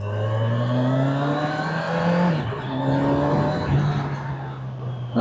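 A Kawasaki Ninja 1100SX motorcycle fitted with an Öhlins shock pulls away and accelerates, its engine note loud and close, rising through revs with a brief dip around a gear change before climbing again, no talk over it.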